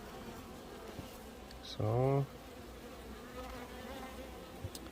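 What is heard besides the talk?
honeybees buzzing at opened trough hive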